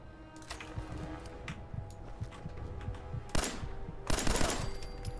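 Gunfire in the game Fallout 4, with rapid, crackling shots rattling in close, uneven bursts over a steady low rumble, and two louder, broader blasts near the end.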